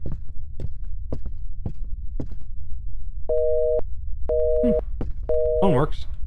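Telephone tone heard through a phone receiver, a series of repeated steady electronic beeps in short bursts following a run of soft rhythmic thumps, with a brief warbling sound near the end.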